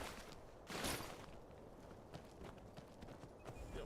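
Horse in the Skyrim video game, hooves clip-clopping in an uneven run with a short burst and a possible neigh near the start, fairly faint against a grainy background.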